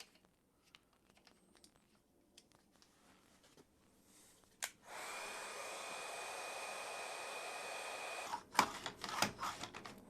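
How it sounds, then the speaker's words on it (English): A few scattered clicks and handling taps, then a heat gun switches on and blows a steady whoosh for about four seconds while shrinking heat shrink tubing onto welder cables, before several sharp knocks and rattles close out the clip. "we'll just throw a little bit of heat shrink on both of them"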